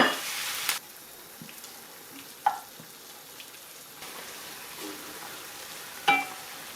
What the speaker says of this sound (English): Then we'll add the minced steak and get that browned all over.